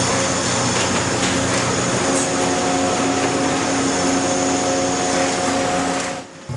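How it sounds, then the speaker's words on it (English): An industrial robot with vacuum suction cups lifts finished thermoplastic wall plates from a molding machine, a loud steady hiss and whir of suction and machinery with faint tonal hum, continuous throughout and dropping slightly at the end. "A robot with vacuum suction cups removes the set of completed plates."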